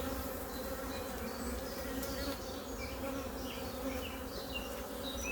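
Honeybees buzzing around an open hive during an inspection of a colony preparing to swarm, a steady close drone with individual bees flitting past, alone without voices.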